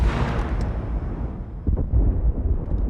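A TAC pod crashing into a dismantled Star Destroyer frame sets off a loud, rumbling explosion, heard from a distance on the ground, that swells, dips and surges again with deep booming debris.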